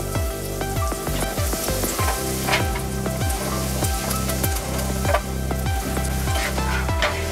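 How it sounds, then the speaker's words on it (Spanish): Butter melting in olive oil in a frying pan gives a steady, dense sizzle and crackle at close range, continuous throughout with no voices. "Le vamos a agregar un cuartito de mantequilla para que nos queden más sabrosos. Vamos a esperar que derrita nuestra mantequilla."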